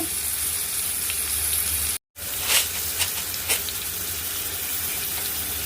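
Large onions frying in a pan over a high flame with turmeric added, a steady loud sizzle with a brief cut in the middle and a few sharper pops afterward.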